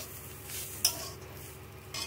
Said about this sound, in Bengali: এই যে ভাজা হচ্ছে, আরও একটু ভেজে নিতে হবে